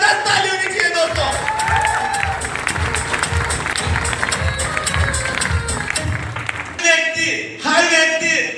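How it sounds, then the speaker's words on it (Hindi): An audience at an event breaks into sustained, dense clapping and cheering for several seconds, loud and close, before giving way to a voice speaking near the end. "एक बार उनके लिए भी जबरदस्त ताली होनी चाहिए दोस्तों"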